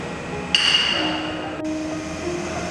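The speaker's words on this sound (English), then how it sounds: "the premade pouch filling sealing machine. Now, let's see the whole working procedure." A doypack powder filling and pouch sealing machine for premade spouted bags runs with a steady mechanical hum. A sharp metallic ping rings out, then a click follows about a second later, all close by.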